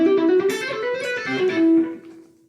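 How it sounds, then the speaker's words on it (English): A shred guitar lick, alternate picked or legato, delivered as a quick run of bright notes that rises and falls, loud and close, with no talking over it, and fading at the end. "Shred in this context meaning alternate picked or legato licks that might sound like this."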